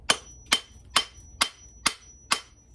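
A hammer drives a broken handle out of an axe head: six sharp, evenly spaced blows land about half a second apart, close and crisp, with no voices.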